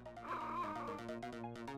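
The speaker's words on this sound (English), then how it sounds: "There's a dog under the couch." Game-style yipping barks from a dog hiding under a couch in the Ghost Trick video game, close and steady, layered over tonal background music.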